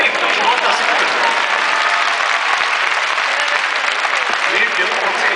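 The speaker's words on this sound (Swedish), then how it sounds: "En applåd på Viktor" An audience at an ice skating competition in Stockholm claps in dense, sustained applause as a skater finishes, a loud steady patter that fills the space while a voice talks over it.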